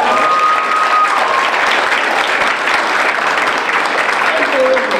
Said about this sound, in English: could you give her a round of applause for pulling it off?